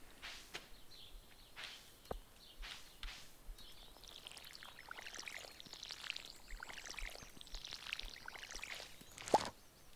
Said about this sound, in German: einmal Pflanzen gießen